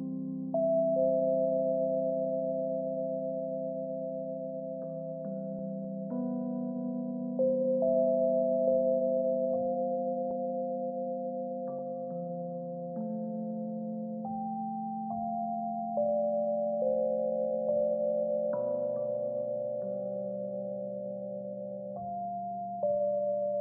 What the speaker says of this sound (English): Also on top of the main melody, I added some more Rhodes.